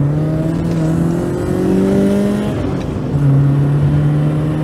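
A BMW E30 318i with its 1.8-litre four-cylinder engine pulls hard under acceleration, loud and close, with rising harmonics as revs climb through gear changes and a steady drone of road noise beneath.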